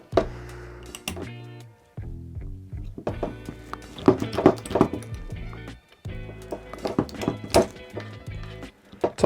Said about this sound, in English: Just bang it on a piece of wood